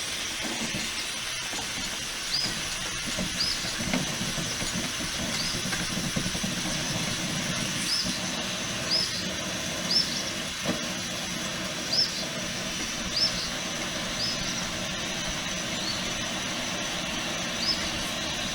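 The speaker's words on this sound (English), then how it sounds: "So I'm going to light this stove and put this pot on it and boil up some tea." A stove is lit under a pot of sassafras tea, producing a steady, close roaring hiss of burning fuel, with faint intermittent clicks over it.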